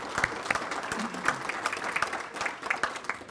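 Luncheon audience applauding the dining staff at an awards lunch, a broad, steady wash of many hands clapping at moderate distance, with scattered sharper claps standing out.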